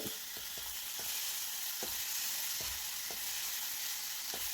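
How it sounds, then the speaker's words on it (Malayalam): Onion sautéing in a pan makes a constant, close frying hiss broken by sharp spatula scrapes and taps at uneven intervals, with no voices. "ഈ ഉള്ളി ഒന്ന് നമുക്ക് വഴറ്റിയെടുക്കാം."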